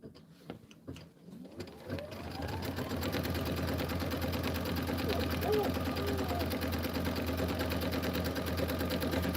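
A sewing machine runs a quilting stitch on fabric, starting after a few faint clicks and then whirring in a steady, continuous mechanical drone close by, with no talk over it.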